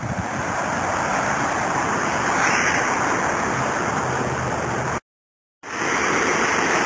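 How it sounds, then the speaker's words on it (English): A raging river rushes loudly beneath a street underpass along the Stevens Creek Trail, a steady, dense roar of churning water close by, briefly cutting out to silence for half a second before resuming. "like quite a raging river here going under that street"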